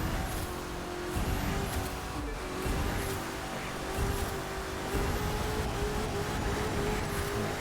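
A car engine in the racing game The Crew 2 pulls steadily under acceleration with a sustained droning tone, gearbox tuned to setting 10, a continuous mid-loud roar without pauses.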